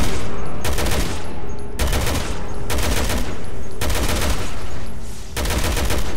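Rapid bursts of gunfire in the video game Resident Evil 6, loud and dense, coming in repeated volleys of about a second each with brief gaps between them.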